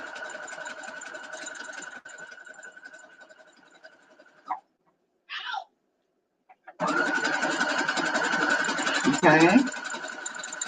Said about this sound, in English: we're going to go ahead and sew this down